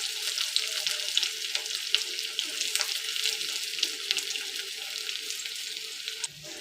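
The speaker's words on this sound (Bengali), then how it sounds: "আমার তেলটা দেখো গরম হয়ে গেছে। এবার আমি পেঁয়াজের বেরেস্তাটা" Onions sizzling in hot oil for crisp fried birista, a continuous bright crackling hiss with scattered pops and spits, fairly close and steady before easing slightly at the end.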